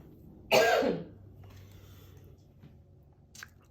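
A single sharp cough sounds close to the microphone, followed by quiet room tone and a faint click.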